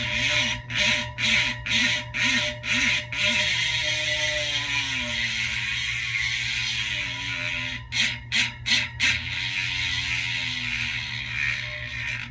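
An EliteWheels Drive 2 kinetic hub freewheels with a deep, thocky clicking buzz in rhythmic bursts from spins of the wheel. A whirring tone slides down between the bursts as the wheel coasts, all close up with no speech.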